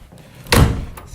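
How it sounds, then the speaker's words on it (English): A single interior door shuts with a short, solid thud, close and loud, in an otherwise quiet room. "I'm going to close all these doors because I don't want him to go back in that room"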